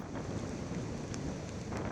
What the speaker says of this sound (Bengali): শহর জুড়ে গুড়ি বৃষ্টির সঙ্গে প্রবল দমকা হাওয়া